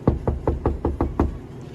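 Knocking on the insulated metal door of a 1984 square-body truck, seven dull, solid thuds in an even rhythm, close and fairly loud.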